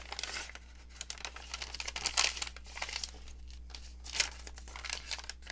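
A paper envelope booklet being folded by hand, with crisp crinkles and rustles that come in uneven bursts, close and fairly quiet, and a sharper crease or two partway through, with no talking.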